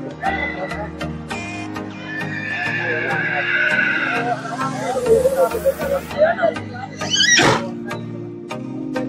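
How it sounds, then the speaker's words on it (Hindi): Horses neigh and whinny at the Sonpur fair horse market, with one loud, drawn-out whinny near the middle over a busy crowd of voices and market noise. "यहाँ पे देखिए कि पूरा ही मार्केट में घोड़ा ही का पूरा मार्केट है"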